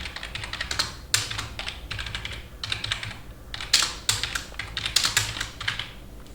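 Steady typing on a computer keyboard, a run of quick close key clicks in short bursts with brief pauses between them, heard alone with no talking.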